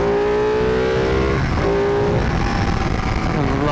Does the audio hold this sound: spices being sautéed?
no